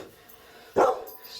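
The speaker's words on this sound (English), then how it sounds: "excuse the doggy. Lady, quiet" A pet dog named Lady gives a single loud, close bark partway through, with a fainter yelp starting just after in a quiet room.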